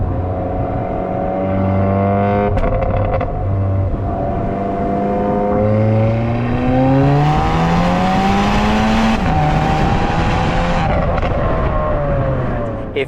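A Volkswagen Alltrack fitted with a Stratified STR38 turbo drives hard, its engine note loud and close, rising and falling through the gears over about thirteen seconds with no talk.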